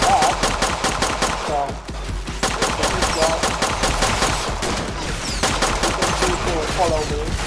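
Rapid bursts of automatic gunfire from a third-person shooter game built with an Unreal Engine kit, crackling steadily with brief pauses, with a few words spoken over it.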